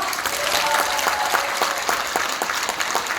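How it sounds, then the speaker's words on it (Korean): A crowd applauds steadily at an outdoor closing ceremony for the 2019 East Asian Culture City event in Incheon, dense continuous clapping with a few sharper claps standing out. "다시 한번 박수 보내드릴까요?"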